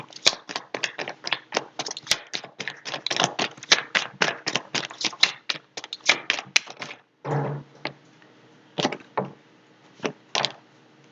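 Rapid clicking and snapping of tarot cards being shuffled, a fast run of crisp taps, then a pause and a few slower flicks, close up.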